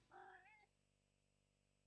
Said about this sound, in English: god dang cats